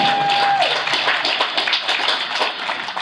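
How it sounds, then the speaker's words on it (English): Clapping and applause from a crowd, a scattered patter of hands with a brief steady tone at the start. "Give her a round of applause, people."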